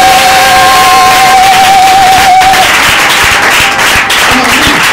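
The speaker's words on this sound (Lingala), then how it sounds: "Acclamons ton frère Jésus" A church congregation applauds and cheers loudly and continuously, with sustained tones held underneath the crowd noise.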